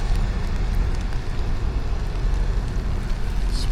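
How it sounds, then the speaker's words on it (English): Heavy rain pours down outdoors at a distillery in Kentucky, a dense, loud, steady roar of falling water with a strong low rumble and no break across the few seconds. "It's pouring rain."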